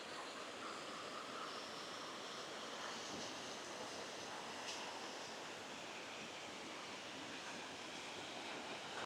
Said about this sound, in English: Stunning waterfall here.